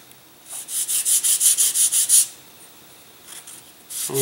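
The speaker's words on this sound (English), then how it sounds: "you can sand the leading and trailing edge of it around if you want to" Edges of a catapult glider wing being sanded by hand: about ten quick, even rubbing strokes in a steady rhythm, close and fairly loud, with no talking, followed by a couple of fainter scuffs.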